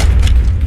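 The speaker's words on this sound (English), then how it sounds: "Did you feel that explosion?" A single deep, loud explosion boom rolls out as a heavy low rumble that fills the brief moment with no talk.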